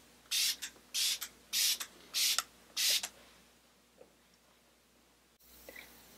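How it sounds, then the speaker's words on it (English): Hydra Enhancer setting spray misted onto a face during a makeup application: five close, sharp pressurised bursts in a steady rhythm, followed by quiet with faint small handling noises. "And then I'm gonna spray the Hydra Enhancer."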